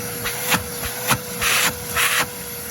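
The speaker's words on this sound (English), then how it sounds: "I just recently found this 4-gallon Porter cable shop vac" A Porter Cable 4-gallon shop vac runs in short bursts, its airy whoosh swelling and dropping several times over a steady faint whine, fairly close and with no voices.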